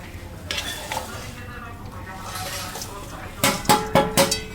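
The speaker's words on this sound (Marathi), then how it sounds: "आता आपण फणस या फोडणीमध्ये टाकणार आहोत." Jackfruit pieces go into hot spiced oil tempered with chili and are stirred in a pan, ending in a quick series of close metal clanks from the spoon against the pan.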